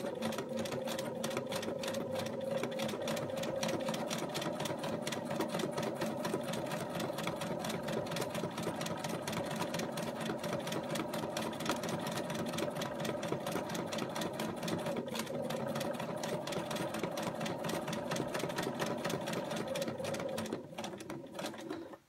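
Sewing machine running steadily while quilting along traced coloring-book design lines on fabric, a continuous close whirring hum with a rapid stitching rhythm that holds for about twenty seconds before stopping.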